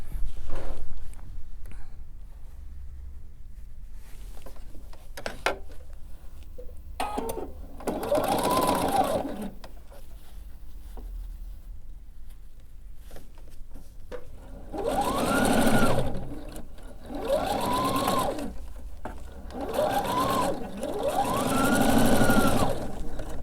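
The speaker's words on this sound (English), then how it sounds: "now I'm going to add this piece and sew it." A sewing machine stitches a quilt piece in several short bursts of rapid mechanical whirring, close and fairly loud, separated by quiet pauses and small handling noises.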